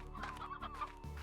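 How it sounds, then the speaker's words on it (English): Chickens in the video game Slime Rancher cluck in a quick series of short, close calls with a steady background hum, several overlapping clucks in just over a second. "there are already so many normal chickens just spawning in"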